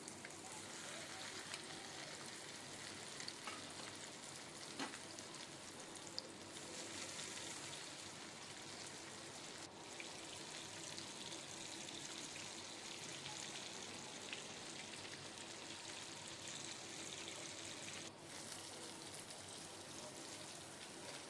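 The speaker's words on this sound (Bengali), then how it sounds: "এবার আর একটা ব্যাচ আমি ভেজে নিচ্ছি" Lote fish, also called Bombay duck, frying in hot oil as a fish chop is prepared: a steady, dense crackling sizzle lasting throughout, close and even, with no talk over it.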